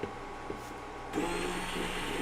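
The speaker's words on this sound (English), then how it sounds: "let's get these mushrooms ground up" An appliance grinding mushrooms for keto gravy whirs up loudly after a brief quieter start, holding a steady motorized buzz with no talk.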